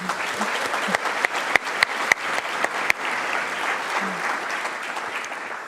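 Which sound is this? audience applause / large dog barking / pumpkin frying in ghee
audience applause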